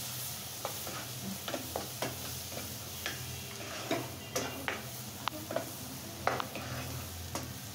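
Green chillies, garlic, onion and ginger frying in a pan for home-style egg biryani, a soft steady sizzle broken by repeated clicks and scrapes of stirring, fairly quiet and close.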